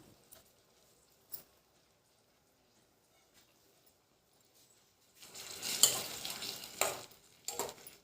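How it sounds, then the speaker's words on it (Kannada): A prepared spice mixture for haldi is stirred in a pan, giving quiet scraping and sizzling strokes that come in a few loud bursts after a long near-silent stretch. "ರೆಡಿ ಮಾಡಿಟ್ಟುಕೊಂಡಿರುವ ಮಿಕ್ಸರನ್ನು ಹಾಕೋಣ ಎಲ್ಲವನ್ನು ಹೊಂದಿಕೊಳ್ಳುವ ಹಾಗೆ ಮಿಕ್ಸ್ ಮಾಡೋಣ"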